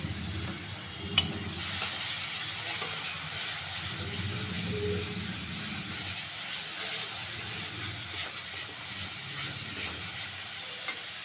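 Ground onion, garlic and tomato paste fries in oil while being stirred, a continuous hissing sizzle that stays moderately quiet and steady, with a couple of sharp utensil clicks.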